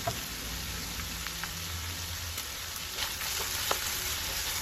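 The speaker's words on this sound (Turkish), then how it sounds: "doğradığım biberleri ekliyorum. 1-2 dakika daha kavurmaya devam ediyorum." Chopped peppers and onions sauté in a hot pan, giving a steady, close sizzle and frying crackle with a few soft pops and no talk.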